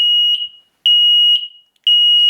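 An X-Sense smoke alarm sounds its smoke pattern: loud, piercing high-pitched beeps in steady, evenly spaced pulses with brief gaps between them, heard alone and close.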